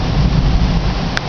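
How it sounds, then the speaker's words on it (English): Heavy rain pours in a summer thunderstorm, a loud, steady broadband rush with low rumbling underneath, as wind drives the downpour; a brief sharp crackle cuts through near the end. "Here comes the lightning and the thunder."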